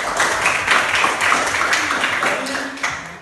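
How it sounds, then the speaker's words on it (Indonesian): Students in a classroom clap together, with distinct individual hand claps audible in an irregular but steady patter that fades near the end, close and fairly loud. "Terima kasih dengan tepuk tangan buat."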